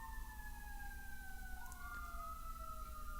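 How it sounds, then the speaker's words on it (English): Emergency sirens from a nearby fire and rescue station wail continuously, two steady tones sliding past each other over a low background rumble, heard alone with no talk. "the sirens just go crazy"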